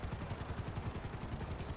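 A helicopter in GTA Online with its fast, even rotor chop thudding continuously, close and moderately loud, with no voices.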